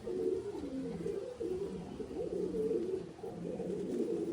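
Soft, steady pigeon cooing, overlapping throaty coos repeating continuously at close range with no other sounds.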